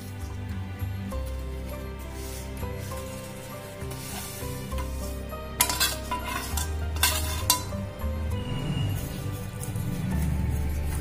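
Vermicelli being stirred into boiling milk in a pan, a steady close scraping and stirring with clinks of spoon on metal over a low bubbling simmer, a few sharper knocks midway.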